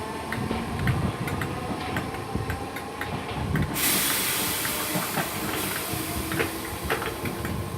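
Class 508 electric train, unit 508136, departing Kirkdale station on the 12:44 service to Kirkby, heard as a steady rumble with a loud hiss of air rising partway through and faint ticking, near and without talk.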